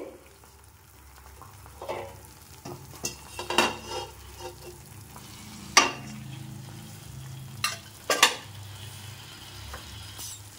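Banana kesari cooks in a pan and is stirred at intervals, so a low, quiet sizzle runs beneath several distinct clanks and scrapes of a spoon against the pan, with no voices.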